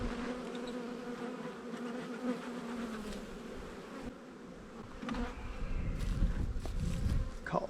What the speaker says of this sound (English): Crazy old bees.